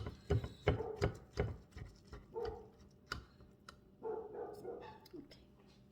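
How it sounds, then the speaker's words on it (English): A dog barks repeatedly in sharp bursts, fairly close, with scattered clattering and faint background noise between barks. "I'm sorry about her barking."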